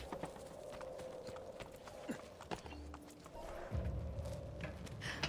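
Horse hooves clip-clop at a walking pace in Assassin's Creed Revelations, a steady irregular patter heard close and fairly quiet among game background sounds.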